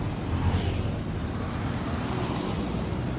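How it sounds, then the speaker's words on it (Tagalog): Steady street traffic near Rizal Plaza in Danao City, Philippines, with a car rolling past close by, a continuous low roadway rumble without talking. "Ay, sasakyan."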